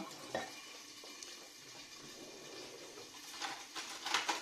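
A fork beats egg yolks in a bowl for a fluffy snow omelette, giving faint, quick scraping and clicking strokes against a soft kitchen background, growing a little busier toward the end.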